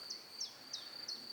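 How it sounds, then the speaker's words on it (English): Four short, high-pitched cricket chirps at a regular pace over a soft, quiet background, faint and unaccompanied by speech. "And the crickets."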